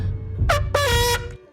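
A blaring air horn sounds as a stream donation alert, two loud blasts, a short one followed by a longer sustained honk, standing alone without talk.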